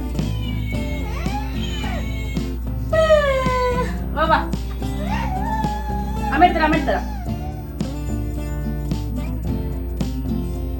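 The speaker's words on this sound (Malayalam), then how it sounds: "പൂച്ച" A cat meows several times in drawn-out, rising and falling cries over a steady background with other sounds.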